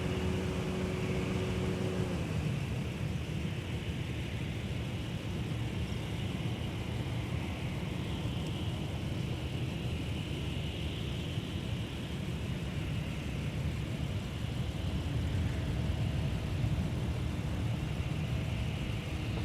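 A Sun Country airliner arriving from Las Vegas on runway 12 right at MSP airport, heard as a steady, continuous engine roar at a distance that holds throughout.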